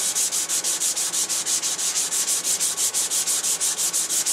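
A wooden disc is sanded by hand with 180 grit sandpaper in quick, even back-and-forth strokes, about twenty rasping rubs in a steady rhythm, close and alone.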